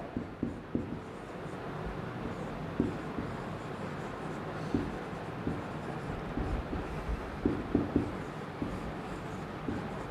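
Pen writing a math solution on paper, small scratchy strokes with soft taps recurring at irregular intervals over faint background noise, fairly quiet and with no voice.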